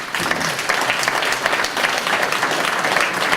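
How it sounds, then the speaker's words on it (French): Steady audience applause at a mayor's New Year reception in a town hall, many hands clapping together in a continuous, fairly loud patter that holds evenly throughout. "Je vais l'applaudir."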